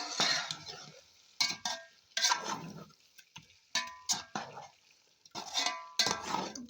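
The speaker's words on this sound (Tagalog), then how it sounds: "Now let's check again after putting this diluted wet flour with water. First we have to mix." A spoon scraping and knocking around a pot as diluted wet flour is stirred into chicken nihari, in short irregular bursts of clatter and swishing, close and fairly quiet.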